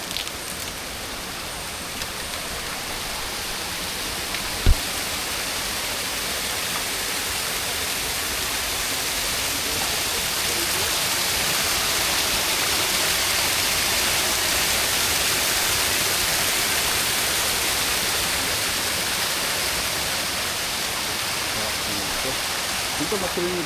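Steady rushing flow of a stream at a campsite in Real Quezon, a dense broadband wash that holds constant for the whole stretch, with a brief knock near the start.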